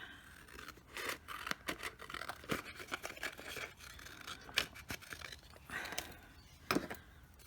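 Scissors snip through washi tape and paper, trimming off excess white backing, in a quick series of quiet close crisp cuts and small rustles.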